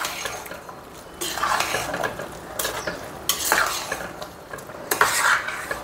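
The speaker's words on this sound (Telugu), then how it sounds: "బాగా కలిపేసుకుందాం" Egg biryani with potatoes being stirred in a pot at home: repeated scraping and clattering strokes of a spoon against the pot, in uneven bursts, close and fairly loud, with no talk.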